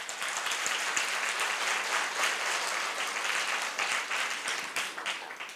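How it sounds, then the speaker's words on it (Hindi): A church congregation at a Lent sermon claps loudly and steadily for several seconds, a dense wash of hand claps filling the hall. "जोर से ताली बजाइए।"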